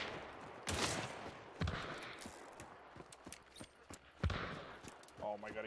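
Gunfire in the multiplayer shooter game Hunt: Showdown, a few sharp shots spaced apart, loud and close, with voices talking between the blasts.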